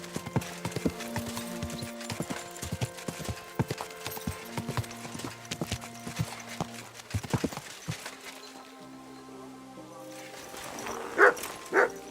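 Horse hooves clip-clop in a steady rhythm in the medieval game Kingdom Come: Deliverance II, fairly close, over faint background music, with a couple of dog barks near the end.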